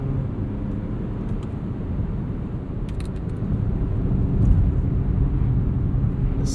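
Steady low engine and road rumble inside a 2021 Mazda CX-30 FWD with a 6-speed in manual sport mode, swelling slightly as it accelerates, with faint clicks from the paddle shifters.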